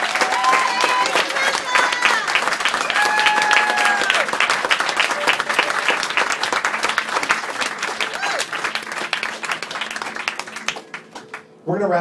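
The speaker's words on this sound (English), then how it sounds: "please give a big round of applause for Samantha as she heads back to her chair." An audience at a live comedy hypnosis show in a club gives sustained applause with some cheering and crowd voices. The clapping fills the room and fades toward the end before a voice comes in.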